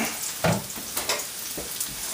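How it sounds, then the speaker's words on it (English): Onions and garlic fry in hot olive oil in a pan with a steady, close sizzle. A few soft stirring scrapes stand out over the constant hiss. "our pan's nice and hot, so from there we're going to add in onions and garlic"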